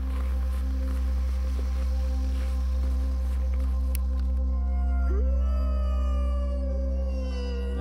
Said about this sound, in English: I played the howl twice again, but I still had no answer.